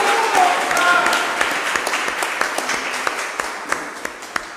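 A church congregation breaks into sustained applause for a speaker during a Portuguese-language worship service, a dense wash of clapping with a few sharper claps standing out toward the end while a voice speaks faintly beneath.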